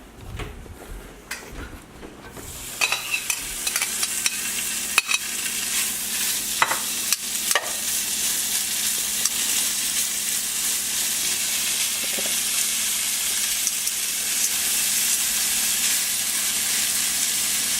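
Pepper bacon hits a hot pan with a few clanks, then settles into a steady, close crackling sizzle that slowly grows louder.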